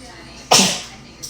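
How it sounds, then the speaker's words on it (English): A single sharp sneeze bursts out loudly and fades quickly, with a faint bit of noise just after. "Excuse me, I have to sneeze."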